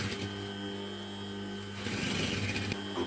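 A sewing machine runs steadily in a single continuous hum as it stitches a small fabric phone pouch a quarter inch from the edge, with the pitch and intensity lifting slightly near the end.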